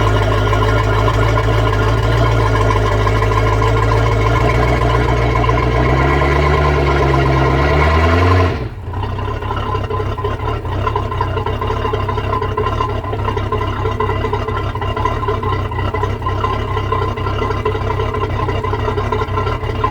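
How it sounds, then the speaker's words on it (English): A deep, steady 350 V8 engine rumble from a restored Scarab 2300 deep-hull boat runs throughout, briefly dipping then settling into a continuous drone with a rough, throaty tone. "That V8 engine, love the sound of it."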